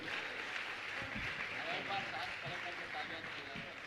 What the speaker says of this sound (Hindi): तो आपकी तालियां अनवरत जारी रहना चाहिए।